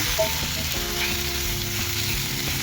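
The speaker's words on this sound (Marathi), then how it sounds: "त्याला हलकासं असं भाजून घेऊया। त्याच्यातच कोथिंबीरच्या काड्या पण आपण टाकून घेऊ।" Ripe tomatoes and coriander stems roast in a hot pan for paneer lababdar, giving a dense, steady close sizzle with a faint low hum underneath and no speech.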